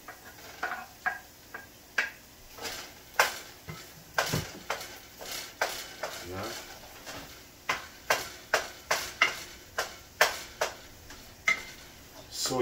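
Chopped chicken hot dogs stirred in hot oil in a pot, a spoon scraping and clinking against the metal in a steady run of sharp taps over a faint sizzle, with a brief spoken word.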